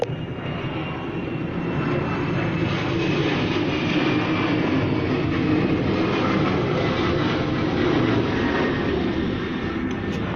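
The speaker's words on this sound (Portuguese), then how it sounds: "Só um instante para o avião passar, pessoal, porque senão não vai dar para a gente escutar" Airplane passing overhead, a loud continuous broadband engine roar that stays steady and dense for the whole stretch, with no talking over it.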